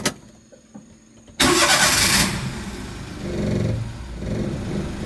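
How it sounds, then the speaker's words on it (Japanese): A Daihatsu Hijet engine cranks and catches abruptly after a quiet moment, then settles into a steady idle nearby. "エンジンかけても"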